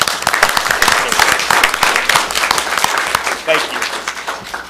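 A school audience breaks into loud, dense clapping for the DJ who played their school dance, sustained for several seconds before tapering, with a voice briefly speaking near the end.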